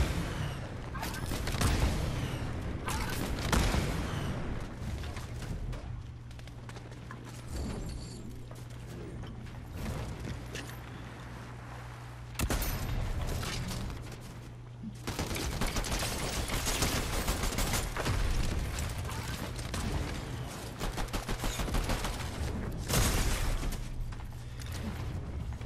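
Sustained Fortnite gunfire crackles through the whole stretch, rapid bursts and clustered shots with mechanical reload clicks, loud and dense with brief lulls.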